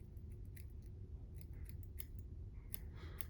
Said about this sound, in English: And with my extremely sharp scissors,